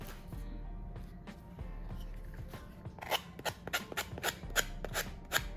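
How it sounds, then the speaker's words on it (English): Quiet rubbing at first, then a run of quick, rhythmic rasping strokes as an edge is sanded by hand, close up and fairly soft. "I'm going to use my sander or nail file, emery board, whatever, and I'm going to just smooth that out"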